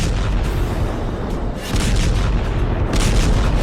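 Continuous heavy low rumbling from bomb explosions destroying bridges, sustained and loud with dense booming throughout and a brief dip midway.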